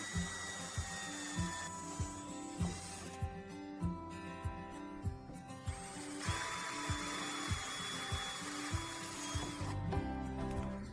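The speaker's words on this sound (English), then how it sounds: "Drill all 4 holes in the left rear door only through the outer panel using a smaller drill." A power drill bores holes through the outer panel of the left rear door on a Maxus E Deliver 9 van. It runs with a steady whine over regular, rhythmic low knocks, with no talking.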